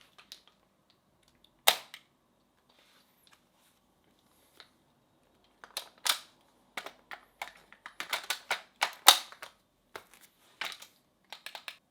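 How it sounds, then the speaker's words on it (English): An HK G3A3 gas blowback airsoft rifle is handled for a tactical reload, with sharp metallic clicks and clacks of the magazine and bolt, a few isolated snaps and then a quick cluster of close mechanical clatter in a quiet room. "So, that's how you do a tactical reload."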